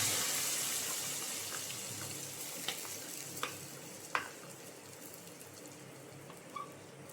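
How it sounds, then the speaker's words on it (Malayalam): Onions fried brown in oil are poured into a fish curry, giving a sharp hissing sizzle that fades steadily, with a few faint clinks of a utensil and no talking. "എന്നിട്ട് ഈ വറുത്തത് നേരെ ഈ മീൻകറിയിലേക്ക് ഒഴിക്കുക"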